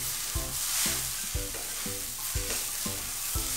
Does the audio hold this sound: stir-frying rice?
yes